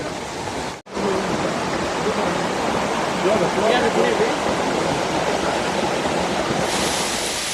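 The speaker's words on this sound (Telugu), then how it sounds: "ఇక్కడ లోతైన వాటర్ ఫాల్స్ ఉంది" Deep waterfall on a trekking trail at Malayappa Kona in the Seshachalam hills near Tirumala, a steady broadband rush of falling water filling the scene throughout, with a brief dropout near the start.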